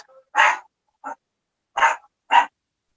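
A dog gives four short, loud, close vocal bursts, separated by clear pauses, just before a speaker begins at an online journalism forum.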